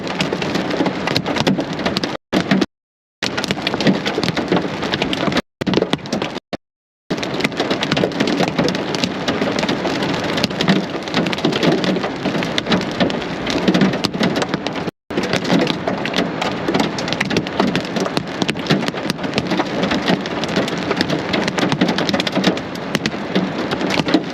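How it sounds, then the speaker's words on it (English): About one-inch hail falls hard during a Colorado storm, a dense, continuous clatter of stones pelting surfaces, loud and close, broken by a few brief dropouts. "Hail floor intercept, we're getting about 1 inch hail."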